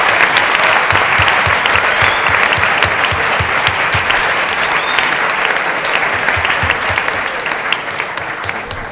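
An audience at an event on women in engineering and science claps loudly and steadily throughout, a dense close wash of applause that eases slightly toward the end.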